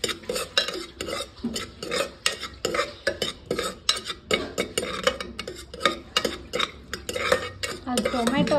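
Onions are fried in a pressure cooker for village-style mutton curry, and a utensil stirs and scrapes them against the metal pot in quick rhythmic strokes with light clatter. A faint sizzle sits underneath, and there is no talking.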